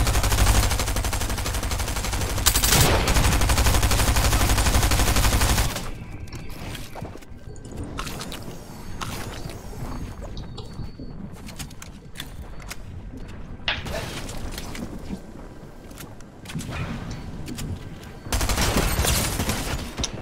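Rapid submachine gun bursts from a first-person shooter game, with close, dense fire at the start that thins into scattered shots and mechanical clatter before a final loud burst.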